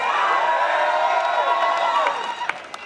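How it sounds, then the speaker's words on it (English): A large crowd at an outdoor pro-pipeline rally in Edmonton, Alberta cheers and whoops loudly and steadily, a dense roar of voices that eases slightly near the end with a couple of sharp shouts. "Look at this crowd."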